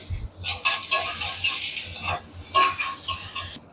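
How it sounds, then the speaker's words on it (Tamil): Onion, tomato and curry leaves frying in a pan give a loud, hissing sizzle that swells and fades as they are stirred, with spoon scrapes mixed in. "வெங்காயம் தக்காளிலாம் சும்மா கொஞ்சம் கொஞ்சமாக போட்டால் போதும் அப்புறம் கருவேப்பிலை"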